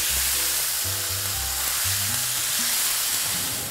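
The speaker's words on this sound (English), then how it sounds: "Then my ground beef. We're going to stir it because we want it to go brown." Ground beef for picadillo sizzles loudly in a hot pan while being stirred, a dense continuous frying crackle with scraping bumps from the utensil, no voices.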